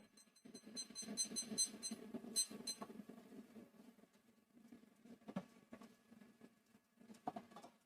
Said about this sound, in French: Et pour ça, on va mettre le minuteur.